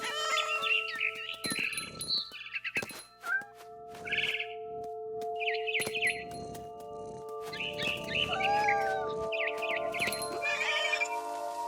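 A cat meows and cries repeatedly in the video game What Remains of Edith Finch, with short sharp calls in bursts over a steady musical drone and game ambience.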